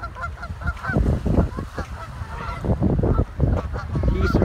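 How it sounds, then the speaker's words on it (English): Geese on a lakeside beach honk repeatedly and loudly nearby, several birds calling over one another in an irregular, continuous chorus. "Geese are liking the water today"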